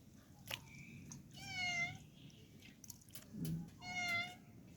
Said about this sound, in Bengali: এই বিড়াল যা।